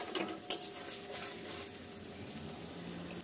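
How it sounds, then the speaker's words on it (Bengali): Ground cumin and coriander powder fry in oil in a pan, giving a steady soft sizzle with light stirring scrapes and an occasional clink near the start, no voices. "এই দেখুন মশলা থেকে কিন্তু তেলটা ছাড়তে শুরু করে দিয়েছে, মশলাটা প্রায় ভাজা হয়ে এসছে।"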